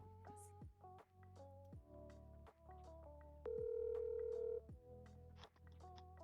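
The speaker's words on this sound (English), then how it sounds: "we got the phone ringing" A telephone rings with a sustained electronic tone, surrounded by faint stepped beeping tones. No voices.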